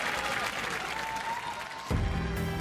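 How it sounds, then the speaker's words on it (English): Studio audience applause for the Apollo robot team at a robot combat show, a fairly faint, steady patter of many hands with a brief thump near the end. "So a round of applause for Apollo, ladies and gentlemen."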